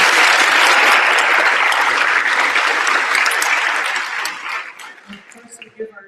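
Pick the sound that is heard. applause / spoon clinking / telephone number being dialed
applause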